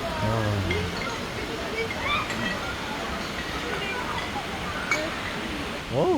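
Taytay Falls and its river give off a constant, broad rush of falling and flowing water, heard close and steady while a person talks over it.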